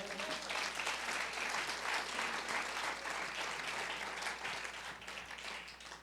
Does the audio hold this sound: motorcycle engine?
no